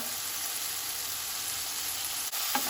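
Mung bean sprouts sizzle in a pan with bacon, a constant bright hiss of hot fat that holds steady, with a small clatter near the end as the food is stirred.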